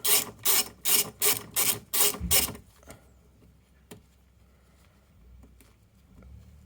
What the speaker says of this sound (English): That's 3, done with the ratchet